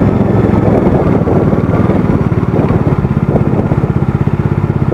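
A motorcycle rides along a dusty mountain road in the Zanskar Valley of Ladakh, its engine droning steadily and close throughout, with a rapid, pulsing low rumble and no talk.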